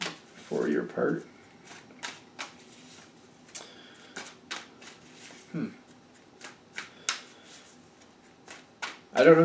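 Cards are shuffled and tapped in quick crisp bursts, with scattered snapping riffles spread across the clip and a few short voices in between.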